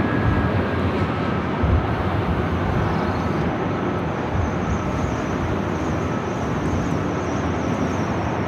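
Airliner rolling down runway 24 left at LAX, a loud, steady broadband roar of jet engines and rushing noise that holds evenly throughout, with no talking.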